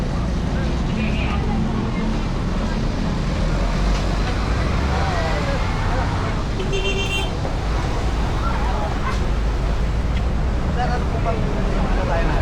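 Traffic streaming along Road 10, a busy major highway, with a constant dense roar of engines and passing vehicles and an occasional horn, while someone talks over it.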